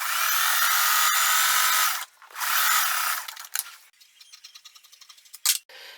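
A machine sews a large piece onto a crazy-quilt block made of slinky fabrics, with two steady, loud whirring runs followed by scattered clicks and handling noises.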